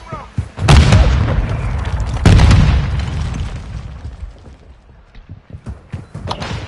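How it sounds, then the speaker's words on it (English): Two heavy booming explosions go off in a multiplayer shooter match about a second and a half apart. Each is loud and close, with a rumbling tail, and quieter gunfire and game sounds follow. "Throwing grenade!"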